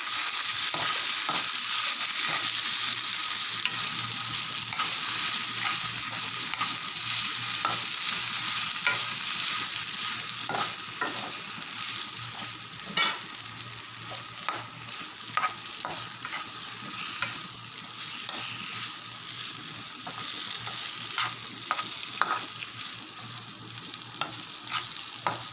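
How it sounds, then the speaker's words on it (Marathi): Food frying in a pan and stirred steadily with a spatula, a loud close hiss of sizzling oil with repeated scraping and clacking strokes throughout, and no talk. "आपण आता छान ढवळून घेऊया।"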